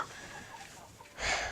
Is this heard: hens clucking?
yes